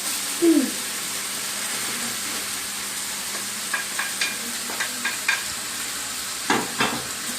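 Pre-made noodles go into a hot pan for stir-frying, giving a steady low sizzle with scattered light scraping and tossing clicks, faint and even.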